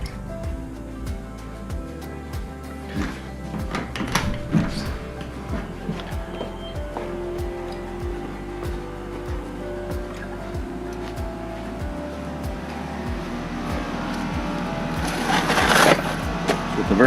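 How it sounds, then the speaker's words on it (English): A home air conditioner's outdoor unit runs nearby, the compressor droning low and steady with a rhythmic fan thump, while other noises and faint voices drift in around it. "I can hear the compressor going."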